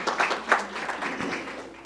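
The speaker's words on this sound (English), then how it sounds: "yeah, you can clap for that" Brief scattered audience clapping at a press conference for the McDonald's Magic City Classic HBCU football game, a short burst of claps that swells and thins over a couple of seconds.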